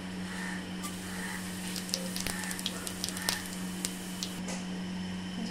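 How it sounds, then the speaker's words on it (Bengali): Cumin seeds tempering in hot oil, a soft steady sizzle with scattered small pops and crackles, close and fairly quiet, alone without speech. "এবার এর মধ্যে দিয়ে দেবো আমি জিরে ফোড়ন"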